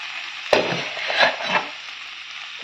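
Cooked food being stirred with a ladle in a pot, soft scraping and wet stirring sounds over a faint background sizzle, a few distinct strokes close by.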